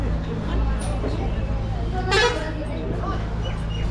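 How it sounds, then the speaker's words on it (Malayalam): A bus on an India-to-Nepal trip sounds one short, sharp honk before it pulls out, heard nearby over a busy roadside with traffic and people talking. "ബസ് പോവാൻ ഓൺ അടിച്ചു കേട്ടോ."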